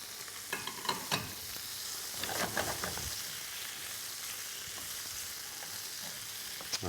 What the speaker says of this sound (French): On va commence par essayer. sauter les lamelles de carottes.